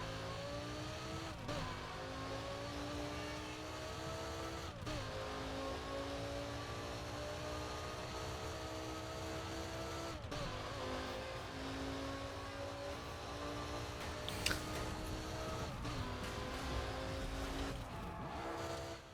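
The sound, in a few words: cars racing in video game Burnout Paradise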